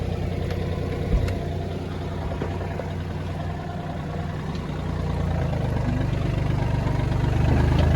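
A Japanese mini tractor's engine runs steadily while the tractor moves with the hitch lowered for ploughing potatoes. It makes a continuous close mid-to-low drone that rises slightly in the last few seconds, with no voices.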